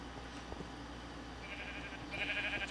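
Sheep bleating in Minecraft with the Tolkiencraft modpack, a few synthetic bleats rising in the second half over a steady low background hum, moderately loud with no talking.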